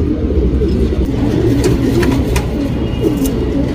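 A male tournament racing pigeon coos softly and repeatedly against a dense, steady background murmur, with no voices.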